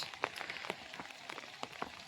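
Rain falls on a hillside, a soft steady patter with scattered sharper drops ticking against the surface, quiet and close without any voices.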